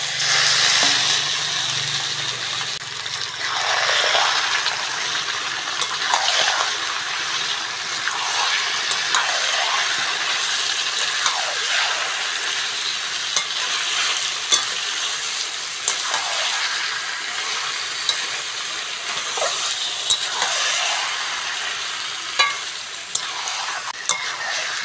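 Chicken pieces sizzle in a pan of fried onions, with steady loud frying hiss and repeated scraping stirs at a regular rhythm throughout, close up and without talk.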